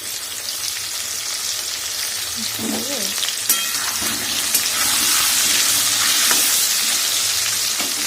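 Potatoes fry in hot oil with a touch of turmeric, giving a continuous bubbling sizzle up close, broken by a few stirring scrapes and clinks that grow slightly louder toward the end.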